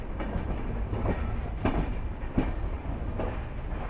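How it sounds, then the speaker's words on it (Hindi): The Kakinada Express arrives at Secunderabad station, its wheels giving a steady rolling rumble with repeated clickety-clack beats over rail joints, close and moderately loud. "अभी सिकंदराबाद अराइव हो रही है कोकानाडा एक्सप्रेस"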